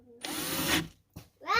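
A power drill bores a 6.3 mm hole to take a helicoil thread insert, a close, steady whine lasting about half a second, followed by short handling noises and a brief rising tone at the end.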